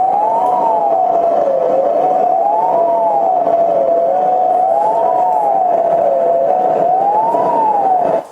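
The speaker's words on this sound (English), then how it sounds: "You hear the sirens blaring in the background as evacuation orders were given to individuals." Emergency sirens wail steadily during an evacuation at a chemical plant in Texas, a loud continuous rising-and-falling tone cycling about every two and a half seconds over a dense background roar, cutting off abruptly at the end.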